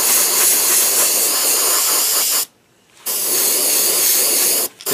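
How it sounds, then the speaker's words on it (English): An Iwata airbrush sprays transparent paint in a loud, close, steady hiss, cutting off for a half-second pause midway and again for a brief moment near the end. "And we're spraying it out of the Iwata clip."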